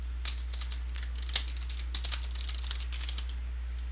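Keystrokes on a computer keyboard clatter in an irregular run of quick, light clicks, close and clear over a steady low electrical hum, with one sharper tap standing out near the middle and no voices.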